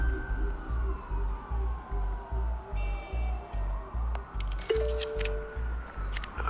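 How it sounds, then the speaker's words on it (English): Police car sirens in the video game Batman: The Telltale Series, a wailing tone sweeping up and down over a steady pulsing background beat, with brief sharp game sounds between. "There are quite a few police cars convening on your location."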